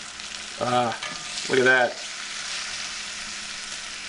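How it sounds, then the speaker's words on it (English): Bacon fries in a pan with a steady, close sizzle that runs throughout, while someone speaks briefly over it. "The perfect sound of bacon frying in the pan."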